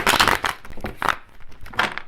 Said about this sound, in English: I'm going to shuffle them once more.